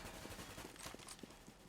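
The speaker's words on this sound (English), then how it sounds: "See the gunshots coming through from the CT side." Rapid gunfire crackles in a Counter-Strike match from the CT side, a dense burst of overlapping shots against steady game noise, faint and distant.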